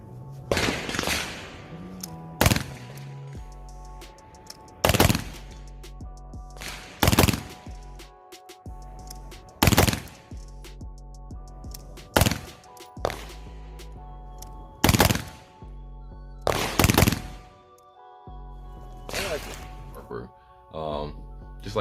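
Gunshots from an AR-15 fitted with a Brownells BRN-180S upper, about nine loud, sharp single reports spaced a few seconds apart at close range, each with a brief ringing tail.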